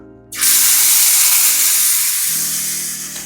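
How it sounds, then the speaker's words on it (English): Beef round roast laid into a hot pan with olive oil, searing with a sudden loud sizzle that bursts in and holds as a steady, close hiss, easing slightly toward the end. "we want to sear all sides a couple minutes, get a nice little sear on it"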